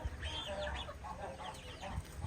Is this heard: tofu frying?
no